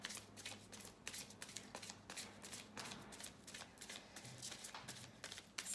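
Oracle cards are shuffled in hand with a soft, rapid riffling and flicking that goes on steadily at low volume, without speech.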